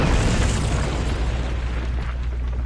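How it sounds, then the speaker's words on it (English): Explosion in the We Happy Few video game, a loud, broad rumbling blast that starts at full strength and slowly fades over a few seconds, with no talking. "I say as I hear an explosion."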